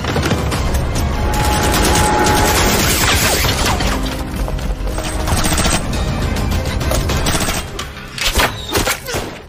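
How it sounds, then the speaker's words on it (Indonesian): Dense, loud gunfire from an action-film shootout with a sniper, sustained volleys and bursts of shots packed close together, easing slightly toward the end with a few separate cracks. "Baku tembak pun kembali terjadi antara si Pangjang dengan pasukan si Mei Cipok"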